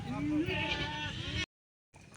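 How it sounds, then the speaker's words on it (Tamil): A young goat lets out a loud, wavering bleat up close, calling out for about a second and a half before a short break of silence. "காளைக்குட்டி கூப்பிடுது."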